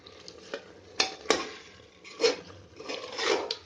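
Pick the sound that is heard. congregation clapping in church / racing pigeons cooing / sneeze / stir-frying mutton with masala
stir-frying mutton with masala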